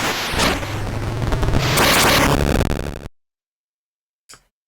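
Gunfire in the video game Mina the Hollower, a loud burst of booming shots lasting about three seconds, then silence broken by one short sharp report.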